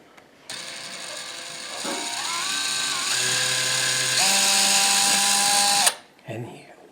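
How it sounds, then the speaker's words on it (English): An electric drill whirs steadily for about five seconds while drilling a small pilot hole to install recessed lighting, its pitch shifting slightly as it bites into material, then stops with a brief clatter. "we're just going to drill a small little pilot hole right here"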